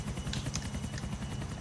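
A helicopter in the video game GTA IV Online thumps steadily with a fast, regular rotor chop at moderate distance, heard alone without talk.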